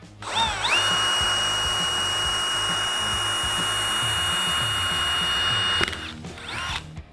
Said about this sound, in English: So first I'm going to drill a pilot hole using a 1/8 drill bit.